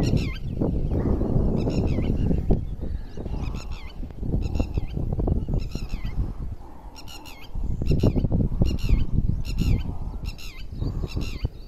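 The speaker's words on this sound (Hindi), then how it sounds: "तो ये देखें जी परिंदे कितनी खूबसूरत आवाज़" Repeated honking bird calls sound in bursts over a constant rumbling outdoor background noise near rice paddies, moderately loud and fairly close.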